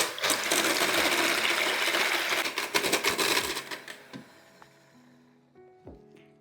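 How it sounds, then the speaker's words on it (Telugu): Eggs being beaten for blueberry muffins with rapid, dense clattering of a whisk against a bowl, tapering off over a few seconds into sparse taps. "ఫస్ట్ ఎగ్స్ని మంచిగా బీట్ చేయాలి."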